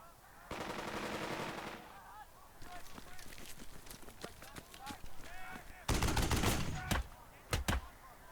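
Heavy machine gun fire in the Burden of Command war game, set at Casablanca: long rattling bursts of rapid shots, loud and close, with single sharp cracks and faint game sounds in the gaps.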